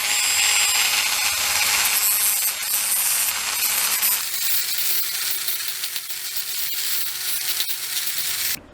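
A power sander working a Tokyo Ghoul Kaneki mask, giving a loud, steady high-pitched whirring and rubbing that eases slightly partway through and keeps going without a break.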